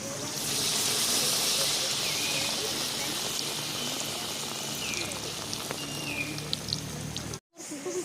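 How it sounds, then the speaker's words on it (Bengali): Pumpkin leaf fritter coated in rice flour frying in hot oil, a steady dense sizzle and hiss that stays even, close up, with a brief cut near the end. "পাতাটা চালের গুঁড়োর মধ্যে ডুবিয়ে ভালো করে ডুবিয়ে নিয়ে তেলের মতো ছেড়ে দিলাম"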